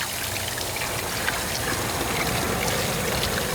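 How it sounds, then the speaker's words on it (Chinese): Running water pours over a large pork leg bone as it is washed, a steady close splashing and trickling that carries on without a break. "这个大棒骨要洗一下"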